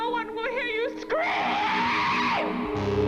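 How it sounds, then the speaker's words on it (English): A long, wailing scream rings out during the title sequence of the 1973 horror film Messiah of Evil, rising and sustained for a couple of seconds after a warbling, eerie vocal tone, loud and dominant. "That scream."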